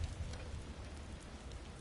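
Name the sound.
storm in Alfheim desert, God of War Ragnarok video game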